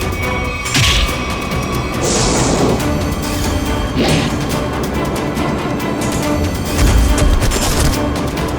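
Gunshots fired at pigeons ring out as several loud booming cracks spread across the stretch, with one late burst standing out, set within a noisy dramatic background.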